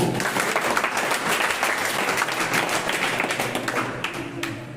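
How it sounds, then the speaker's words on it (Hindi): A crowd at a poetry recital and speech competition applauds loudly and steadily, a dense wash of clapping sustained throughout before easing slightly at the end. "जोरदार ताली के साथ।"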